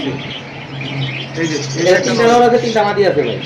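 Pigeons kept for sale call with low, throaty coos and a few chirps close by, mixed with someone talking.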